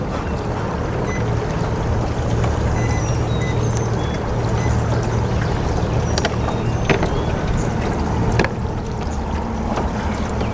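A small boat's outboard motor drones steadily on open water while shad fishing, a continuous low hum running the whole time with wind and water noise over it and faint scattered clicks.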